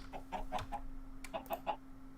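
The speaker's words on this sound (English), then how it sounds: "we are going to collect these chickens" Chickens clucking in Minecraft Sky Factory 3, two short bursts of soft clucks over a faint steady hum, fairly quiet.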